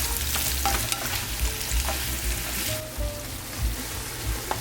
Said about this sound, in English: Now we're gonna take the remainder and mix it.